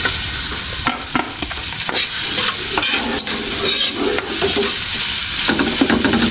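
Garlic and onion sautéing in rendered pork fat in a pan during a pre-dawn home cooking session, a steady loud sizzle with scattered crackles and occasional stirring scrapes throughout.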